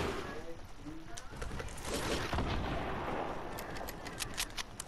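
Gunfire in a video game comes in bursts of sharp shots with several close cracks, over a busy rumbling background.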